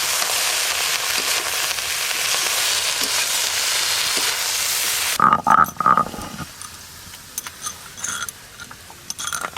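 Cabbage tossed into a pan with pumpkin and vegetables gives a loud, bright sizzle for several seconds, then cuts to quieter stirring clatter and sporadic crackles close by.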